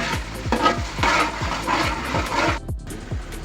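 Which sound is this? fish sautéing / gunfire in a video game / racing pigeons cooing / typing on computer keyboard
fish sautéing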